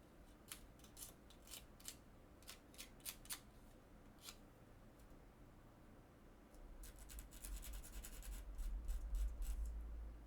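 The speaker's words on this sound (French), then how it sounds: "Alors on va poncer un tout petit peu," Small wooden piece for a miniature dollhouse being sanded by hand, short quiet scratchy strokes in irregular bursts, growing into a denser, louder rubbing toward the end.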